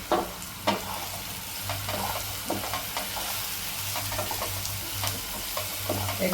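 A paste of coconut, coriander and garlic stir-fried for an egg masala, a soft continuous sizzle with intermittent scraping strokes of the spoon against the pan, close and fairly quiet, no voices.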